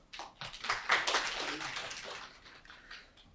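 A small audience at an academic talk on autonomous vehicle localization claps briefly after a presenter's introduction. The claps are scattered and moderately loud at first, then thin out and fade toward the end.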